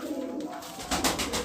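Sherazi pigeons cooing softly and steadily at close range while they peck at grain, with faint rustling and no voices.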